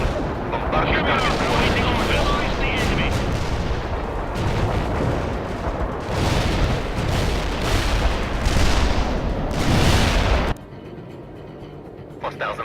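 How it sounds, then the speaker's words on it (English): Artillery bombardment in the World in Conflict game: a dense, continuous barrage of booming blasts and crackling gunfire for about ten seconds, then an abrupt drop to quiet. "Fire mission confirmed. Bombard your target."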